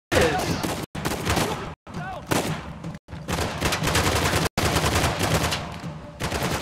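A shotgun blasts repeatedly during an intense firefight in Uncharted: The Lost Legacy, loud punchy shots mixed with other gunfire in several choppy stretches separated by abrupt silences, with a voice talking over the action.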